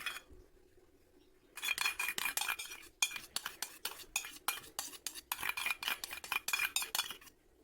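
Milk cream being stirred into boiling milk for kulfi, a rapid run of clinks and scrapes as a metal spoon beats against the pot, coming in close bursts after a quiet start.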